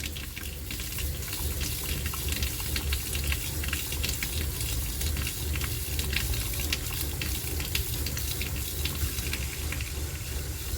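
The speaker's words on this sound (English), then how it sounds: "turn our pump on and run every one of your faucets" Water pump running faucets in a Little Guy Mini Max camper being winterized with antifreeze, giving a steady, continuous rushing flow with a low pump hum underneath, close and constant throughout, with no talking.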